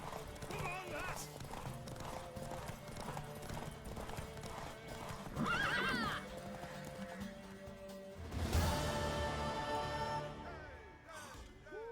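A horse in The Witcher 3: Wild Hunt gallops with rapid rhythmic hoofbeats and lets out two loud whinnies, steady and close, under characters' speech.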